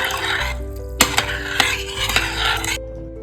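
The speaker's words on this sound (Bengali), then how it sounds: "লেবু, গোল গোল পিস করা লেবু দিয়ে সুন্দর করে মিশিয়ে নেব।" Phuchka filling being mixed with round lemon pieces, a spoon scraping and clinking against a bowl with a few sharp knocks over steady rustling, close and alone.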